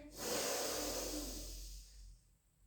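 One long breath during a Pilates hamstring stretch, a close, airy rush that fades away after about two seconds.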